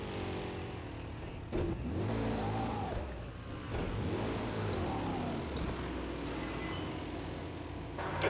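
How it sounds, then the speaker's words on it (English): A racing car on a track: a loud engine revving up and down through gear changes over several seconds, holding close and steady with no talking. "Take care, there's a car approaching."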